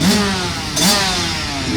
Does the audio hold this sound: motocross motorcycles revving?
yes